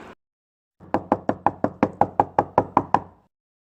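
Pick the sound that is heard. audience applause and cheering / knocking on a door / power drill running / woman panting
knocking on a door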